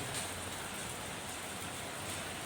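Heavy rain falling steadily in Ernakulam, a faint, even wash of hiss with no distinct drops or other sounds.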